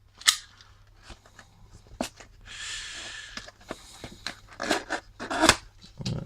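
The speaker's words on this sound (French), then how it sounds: "je vais essayer d'enlever le scotch sans abîmer la boîte" Tape being peeled off a cardboard trading card display box, close crackly tearing with sharp snaps and pops scattered through a brief stretch of stripping.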